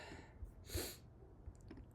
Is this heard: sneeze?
yes